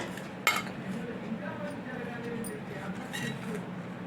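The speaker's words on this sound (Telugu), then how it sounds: "ఇప్పుడు మిక్స్ చేసుకుందాం" A spoon stirs roasted peanut chaat with chili powder, garam masala and chaat masala in a bowl, giving a sharp clink at the start, then soft scraping and faint clinks under a continuous low background.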